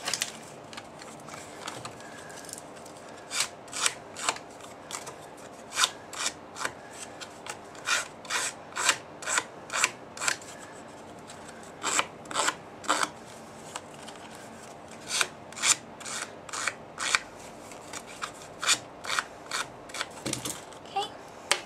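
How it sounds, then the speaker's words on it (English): Edges of cardstock are distressed with a tool in a series of quick dry scraping strokes, arriving in rhythmic bursts with short pauses, close and clear, without speech. "we're going to distress the edges of this, but we're only going to distress these 3 sides"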